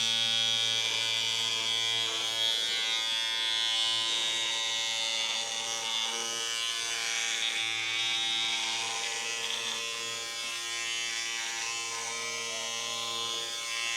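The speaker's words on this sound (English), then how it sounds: "First time ever shaving the rug." Electric clipper shaves the pile of a tufted rug, a steady, close, loud buzzing drone that runs without a break, its pitch wavering slightly as the blades push through the yarn.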